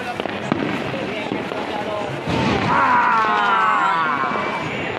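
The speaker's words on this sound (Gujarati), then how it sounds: "અત્યારે ફટાકડા ફૂટવા ચાલુ થઈ ગયા છે મિત્રો" Firecrackers pop and crackle repeatedly at a distance during Vasi Uttarayan celebrations in Ahmedabad, sharp bursts scattered over a continuous background, with a sudden louder stretch midway.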